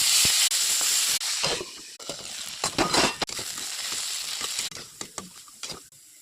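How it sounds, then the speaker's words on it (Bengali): Potatoes fry in hot oil with turmeric and salt for a cabbage fry dish, a steady bright sizzle and hiss broken by sharp scraping and clattering stirs at irregular intervals. "তেল গরম হয়ে গেছে, আলুটা ভেজে নেব হলদি লবণ দিয়ে।"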